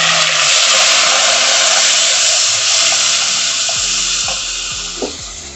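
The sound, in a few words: onion, ginger and garlic frying in a pan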